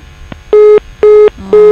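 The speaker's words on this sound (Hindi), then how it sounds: "शायद फोन डिस्टर्ब लाग रहल है, फोन डिस्कनेक्ट भ चुकल है इनकर।" A telephone line drops during a live call-in TV show, giving three loud, evenly spaced electronic beeps in quick succession over a quiet line hiss.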